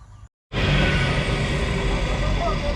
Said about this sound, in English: They should have known better than to try to come in here with this truck today after all the rain we had.